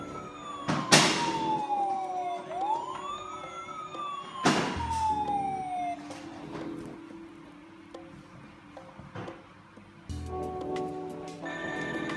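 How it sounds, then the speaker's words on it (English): A Dickie Toys toy fire engine sounds its electronic siren, a sweeping wail that rises and falls over several seconds, punctuated by sharp clicks and knocks from handling the toy, fairly quiet and without talk. "Oh, I can hear the siren."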